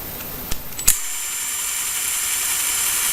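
A couple of sharp mechanical clicks, then a small drill spinning a piece of coat hanger wire spins up into a steady, high-pitched whirring that continues to the end.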